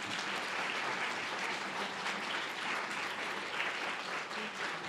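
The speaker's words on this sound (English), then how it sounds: "Let's give them a round of applause." Steady applause from a conference audience fills the room, dense and even clapping throughout at a constant level, with no voices standing out.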